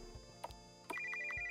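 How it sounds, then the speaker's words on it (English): An old-fashioned telephone bell ringtone from a video game trills in repeated bursts, loud and close, after a couple of brief electronic blips, with no talking over it. "What kind of oldie-timey ringtone is that?"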